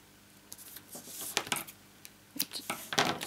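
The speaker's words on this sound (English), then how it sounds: "I just use my scissors." Scissors snip through stiff cardstock in several quick, close cuts, with rustling paper between strokes.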